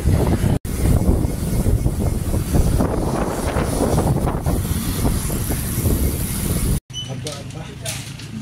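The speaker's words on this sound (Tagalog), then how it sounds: "Lakas ng hangin." Loud, steady wind buffeting the microphone, roaring low and broad for several seconds with a brief cutout, then easing near the end.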